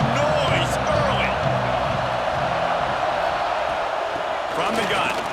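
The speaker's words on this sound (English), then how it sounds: "This crowd bringing the energy and noise early." Stadium crowd noise in College Football 26 at a North Carolina Tar Heels at Clemson Tigers game, a loud sustained roar with cheers and whoops as a voice talks over it.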